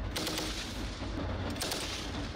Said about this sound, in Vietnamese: nổ súng tiêu diệt ngay loạt đạn đầu